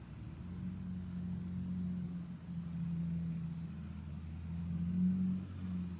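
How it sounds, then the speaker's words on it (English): Steady low engine rumble of passing cars outdoors, droning continuously with slight swells, no voices. "It's outside noise, cars and traffic, upstairs neighbors."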